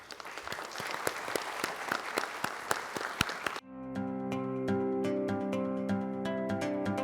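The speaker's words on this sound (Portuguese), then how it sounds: "eles merecem uma salva de palmas aonde eles estiverem" A solemn civic session gives a round of applause, many hands clapping at a steady rhythm for a few seconds before it cuts abruptly to sustained tonal music.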